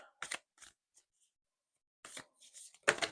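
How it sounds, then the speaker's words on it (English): Tarot cards are shuffled briskly in the hands in a few short, close bursts of riffling and flicking, separated by a quiet pause. "I was shuffling a little bit too excitedly there"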